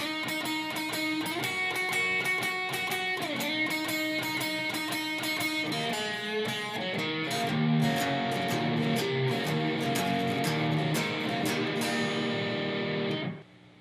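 Electric guitar plays the intro and opening shuffle of a song, a dense bright run into a driving shuffle rhythm, loud and close with no voices, ending abruptly.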